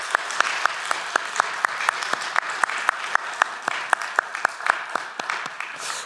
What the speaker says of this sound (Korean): 우리 박수를 한번 격려 한번 하십시다.